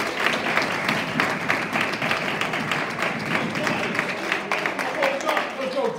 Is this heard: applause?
yes